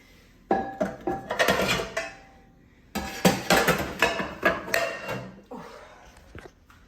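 Pots and frying pans are put away in a home kitchen while cleaning, giving a run of clattering metal knocks and clinks in two bursts, close and fairly loud, with a brief pause between.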